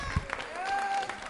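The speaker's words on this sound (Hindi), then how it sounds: "जयान शर्मा के लिए तालियां जोरों से बजाइए" Applause for a child contestant at a Diwali music quiz show, a short burst of clapping from a crowd while a host's voice carries over it.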